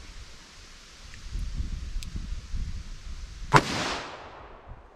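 A .357 Magnum Winchester Silvertip round fires once with a single sharp, loud crack and a short decaying tail after a few seconds of quiet rustling outdoors.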